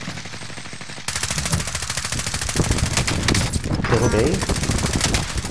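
Rapid automatic gunfire from a video game shooter, dense and loud with continuous bursts, while a player talks excitedly over it.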